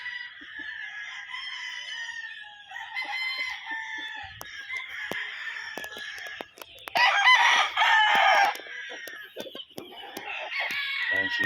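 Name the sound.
rooster crowing, Gull Butcher Mt. Banahaw bloodline chicken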